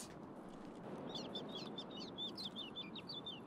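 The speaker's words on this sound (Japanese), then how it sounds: "でっか、鳥の音。" Birds chirp in a forest in Escape from Tarkov, a quick series of high tweets and short calls over a steady low ambient hiss, faint and alone without speech.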